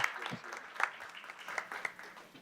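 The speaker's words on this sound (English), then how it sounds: "Let's give them another round of applause." A small school board meeting audience gives students a round of applause: faint, scattered clapping with a few sharper individual claps, fairly distant and thin.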